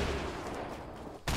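A grenade blasts in a Fortnite Battle Royale match, a loud dense burst of gunfire-like noise filling the clip, ending in a short drop and a sharp loud crack at the end.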